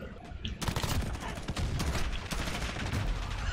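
Rapid gunfire in the video game Call of Duty Modern Warfare, dense overlapping shots and bursts forming a loud continuous barrage throughout.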